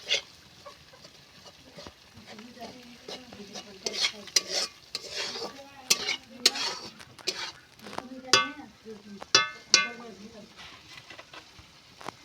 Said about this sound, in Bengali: এবার আমি ভালো করে কষিয়ে নেব মশলাটা।